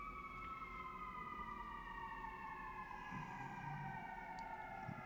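An emergency vehicle siren wails on the street, steady and moderately distant, its two-tone pitch slowly sliding downward as it passes and fades, with low traffic rumble underneath.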